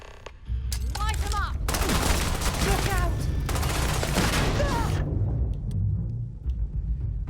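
Rapid bursts of gunfire erupt and sustain in a ship-to-ship fight in the space game Starfield, loud and dense with rumbling impacts and whistling tones layered over the barrage.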